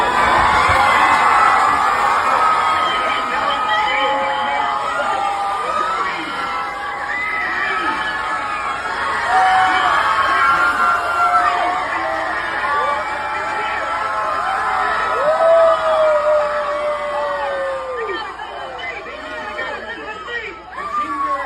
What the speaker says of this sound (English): The chamber has been paralyzed by your screaming.